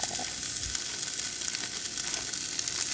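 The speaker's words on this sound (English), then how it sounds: "You hear that good sizzle?" Steady, close sizzling and crackling of chopped bell pepper frying in a hot pan, continuous with no voices.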